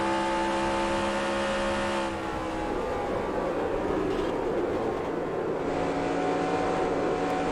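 Race car engine in NASCAR Racing 2003, an Xfinity car at Atlanta, drones loudly and continuously with a shifting whine that changes pitch midway as the throttle varies, with no speech over it.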